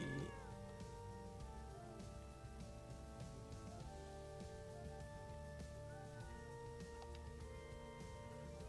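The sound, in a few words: cat meowing in video game Hidden Cats in Spooky Village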